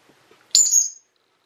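A pet bird gives a single sharp, high whistled call lasting about half a second, close and clear against near silence.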